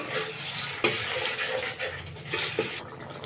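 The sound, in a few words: water added to masala in pan and stirred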